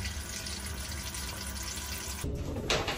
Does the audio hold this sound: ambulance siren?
no